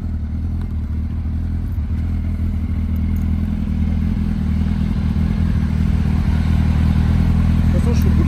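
Motorcycle engine idling and pulling away, a loud, continuous low rumble with steady throb and some clatter that stays constant throughout, close to the listener.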